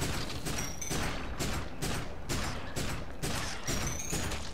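Rapid bursts of gunfire in the video game Tom Sparks and The Quakes of Ruin, a dense, steady stream of repeated shots with brief pauses, fairly faint overall.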